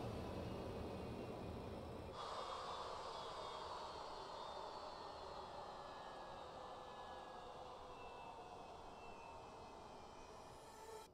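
Twin jet engines of an F/A-18 in a flight simulator winding down at shutdown: a loud, steady roar and whine whose tones slide slowly lower, heard alone with no talk.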